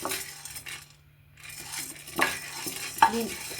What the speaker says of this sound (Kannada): ಕಡಲೆಬೇಳೆ, ಇದು ಗಮ್ಮನ ವಾಸನೆವರೆಗೂ ಫ್ರೈ ಮಾಡ್ಕೋಬೇಕು